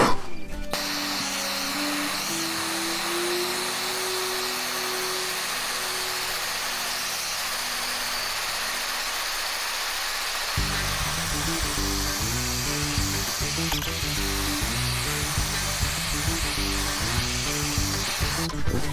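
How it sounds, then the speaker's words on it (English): A propane torch roars steadily while charring a turned wooden bowl for shou sugi ban, a continuous broadband hiss with a deeper rumbling section in the second half, close and loud with no talk. "let's hit it with a torch."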